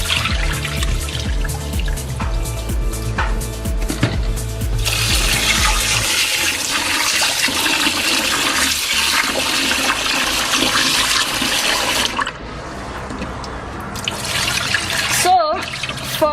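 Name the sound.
rinsing rice and lentils under running water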